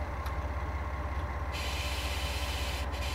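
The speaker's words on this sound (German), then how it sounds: "während wie ich einen Zug höre" A train rumbles past in the Train Sim World 5 game, a steady low rolling drone with rhythmic wheel beats and a hissy upper layer, constant and close without any voices.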